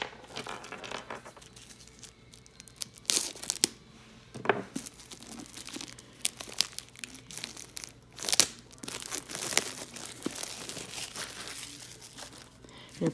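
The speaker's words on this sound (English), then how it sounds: "So they all come wrapped in cellophane." Cellophane wrapping on craft store items crinkles and rustles in irregular, close bursts, with sharper crackles now and then and faint voices in the background.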